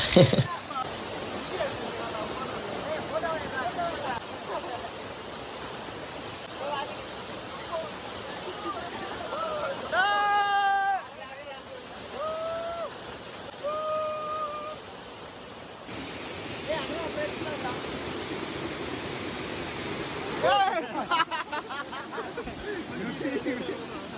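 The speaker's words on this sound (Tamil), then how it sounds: "ஒரு வழியாக நீர்வீழ்ச்சிக்கிட்ட வந்தாச்சு." A waterfall in the Jawadhu hills makes a steady, even rushing roar that runs the whole time beneath frequent talking voices.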